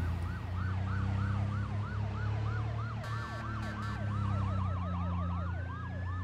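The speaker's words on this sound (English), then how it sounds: "Why are the police having on their sirens?" Police car sirens in the Arma 3 video game wail in a rapid repeating rise-and-fall, steady and prominent over a low engine hum, with a brief burst of clicks midway and no talking.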